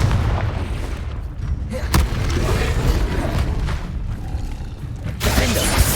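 A Confringo fire spell going off in Hogwarts Legacy: loud, dense booming blasts and crackling bursts over a constant roar of combat, with sharp hits near the two- and five-second marks.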